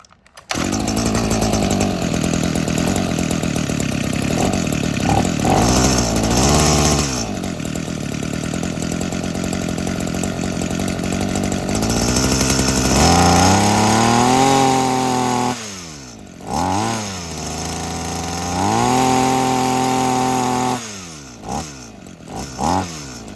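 A Makita RBC2510 two-stroke weed trimmer with a fresh spark plug and new carburetor fires up and runs loud and close, its buzzing engine idling then revving up and down repeatedly with brief drops between bursts.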